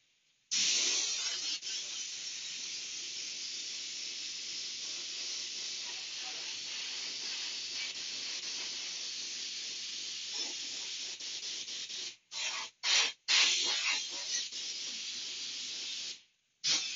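Airbrush spraying white paint onto a vinyl art toy gives a steady, close, loud hiss that runs almost continuously, with a few brief cutoffs near the end as the trigger is released.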